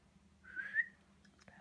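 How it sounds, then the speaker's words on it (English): A person whistles a single short, sliding note in a quiet room, followed by a brief faint voice at the end. "Bad whistle."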